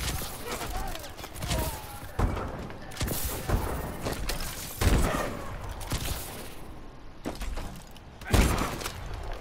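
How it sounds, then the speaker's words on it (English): A grenade blast and surrounding combat in Call of Duty: Advanced Warfare: several sharp, loud bursts and booms are spread across a few seconds, with gunfire crackling between them and voices talking throughout. "This guy freaking threw a grenade."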